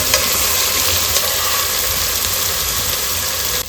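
Ginger garlic paste sizzles in oil in a pan for fish curry, a steady, loud, dense hiss that runs without a break and sits close with no voices.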